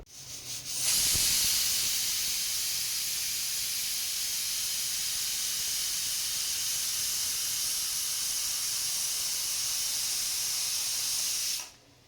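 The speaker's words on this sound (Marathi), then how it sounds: "कुकरच्या एक पाच सहा शिट्या काढून घ्यायच्या आहेत" Pressure cooker on the stove cooking village-style chicken rassa curry releases steam in a loud, steady hiss lasting about ten seconds, starting and cutting off abruptly, with no talking.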